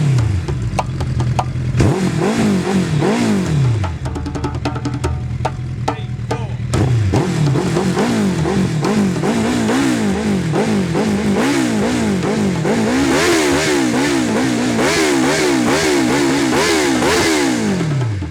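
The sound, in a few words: group of superbike motorcycles revving and riding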